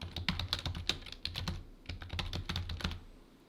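Typing on a computer keyboard to enter a commit message: close, quiet, fast bursts of keystrokes with a short pause partway through and no speech.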